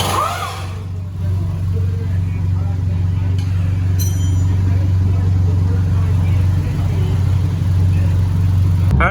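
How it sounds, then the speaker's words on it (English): VW MK6 Jetta fitted with a new dual exhaust, driving home from a muffler shop: a steady low exhaust drone and road rumble hold throughout, loud and close, with a brief clatter early on. "we're driving back home now from the muffler shop"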